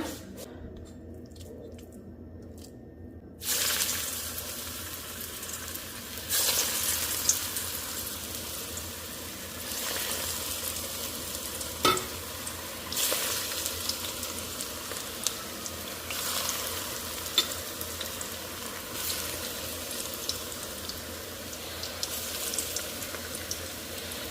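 Bottle gourd kofta in gram flour batter sizzle in hot oil, starting as a steady broadband crackle after a brief quiet moment and continuing with small pops throughout.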